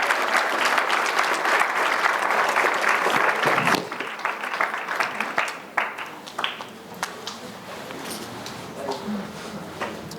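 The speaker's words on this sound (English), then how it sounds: "another very loud round of applause for Mr. Charlie Harary." An audience at a speaking event gives a loud, dense round of applause that holds steady for several seconds, then thins into scattered claps as it fades.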